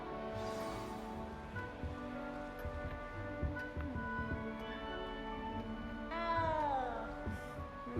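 Cat meowing in Hogwarts Legacy, a castle setting with steady ambient music underneath; one long, clear rising-then-falling meow stands out near the end, fairly close.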